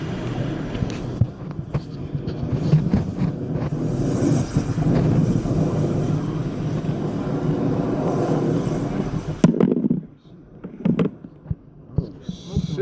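A burning garbage truck fire in New Jersey roars with a steady, loud low rumble like a jet engine, continuous for most of the clip before cutting off into quieter, uneven noise near the end.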